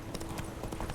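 A horse's hooves clip-clop in a quick, steady rhythm in The Witcher 3, close and clear, with a voice faintly underneath.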